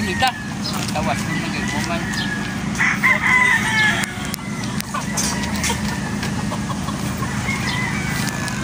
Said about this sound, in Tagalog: Yan na po yung ating mga bagong dating na battle stag.